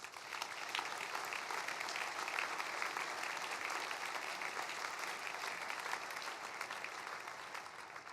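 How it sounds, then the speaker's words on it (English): Diners at a state chamber of commerce annual meeting and dinner in Maine give a round of applause. Even, sustained clapping from a large room, heard from a distance and fairly faint, with no talk over it. "Please join me in a round of applause."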